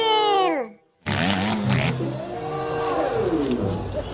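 A voice imitates a toy dirt bike engine, revving and falling in pitch. After a short gap comes a rougher, growling vroom that continues at close range.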